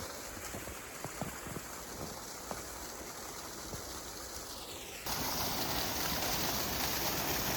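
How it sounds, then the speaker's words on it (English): Steady rushing water from a waterfall on a Minnesota hiking trail, a broad continuous roar that suddenly grows louder and fuller partway through, with a few faint footstep-like knocks on steps early on. "Coming up to a waterfall here"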